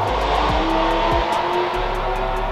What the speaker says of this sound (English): I always get some car hauling ass behind it